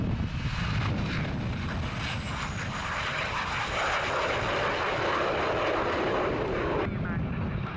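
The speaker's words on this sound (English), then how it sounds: "So what's that aircraft all about? It's for the oil spills." A fixed-wing oil spill response aircraft drones overhead, its engine roar loud and continuous throughout, with the broad rumble shifting slightly as it passes.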